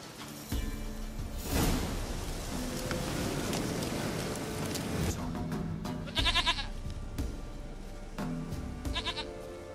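Goats bleat in The Witcher 3: Wild Hunt, several close, wavering calls standing out from a steady outdoor ambience with a low rumble and wind.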